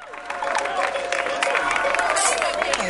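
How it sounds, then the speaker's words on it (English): Crowd applause and cheering fill a Ghana Most Beautiful pageant performance night, a dense, steady roar of clapping and voices that holds loud throughout. "We'd like to invite Nana with a round of applause."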